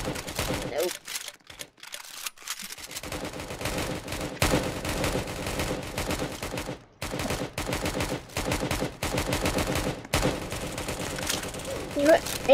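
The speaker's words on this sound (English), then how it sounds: "There's random people just shooting everywhere." Rapid bursts of video-game gunfire from Roblox Prison Life crackle in dense, irregular volleys with brief gaps, fairly quiet overall, while a player talks over the shooting.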